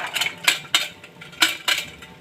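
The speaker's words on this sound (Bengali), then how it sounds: "প্রথমে মটরের পেস্টটাতে আমি ঘিটা লাগিয়ে নিচ্ছি, পুরোপুরি মিশিয়ে নিচ্ছি।" Ghee being worked into a pea paste in a pan, giving a run of five or six sharp metallic clinks and scrapes from a utensil against the pan, close and fairly loud with no voices.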